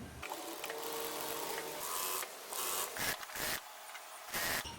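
A sewing machine stitching the edges of fabric for a sharara set, running loud and close with a continuous rattling whir broken by brief pauses and changes in speed.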